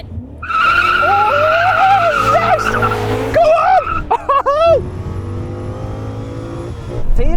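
BMW M5 cars launching in a drag race, with loud revving engines and screeching tires at the start, then gear changes and rising engine notes as the cars pull away.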